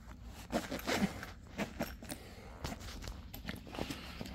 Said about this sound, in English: Okay, let's do the small zip first.